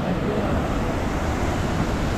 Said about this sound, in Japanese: 波が バッサンバッサン入ってきてるから